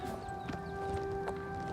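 Galloping horse hooves in the video game Oblivion Remastered, a steady rhythmic clip-clop pounding close and moderately loud over faint game ambience.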